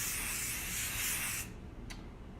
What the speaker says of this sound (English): So now I'm going to use some more hairspray